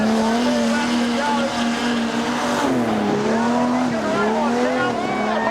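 Modified production race cars, including a Cortina, race at Kingaroy Speedway with loud droning engines that rise and fall as they pass, with tire squeal over a commentator talking throughout.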